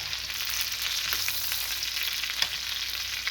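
Chicken coated in egg and cornstarch sizzles and crackles steadily in hot butter, a dense close frying hiss with occasional sharper pops.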